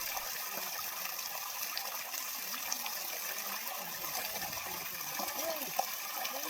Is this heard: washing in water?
yes